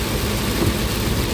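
Heavy rain pounds a car driving through a storm in Khon Kaen, a dense, steady roar of water on the body and glass with a low rumble of road and engine underneath.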